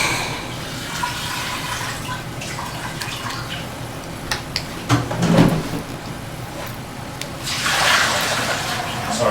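Water pours and splashes into a container while filling a chicken waterer, a steady running wash that swells louder toward the end, with a brief clunk midway.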